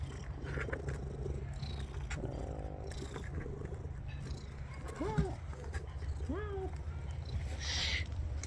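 A grumpy house cat purrs close by in a steady low rumble that runs without a break, while a few brief bird chirps sound in the background.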